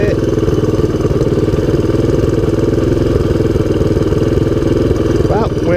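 A 1983 Honda ATC200X all-terrain vehicle, just revived after a seized clutch and flooded carburetor, idles in neutral with a steady, loud, close mechanical chug and clatter that barely wavers throughout.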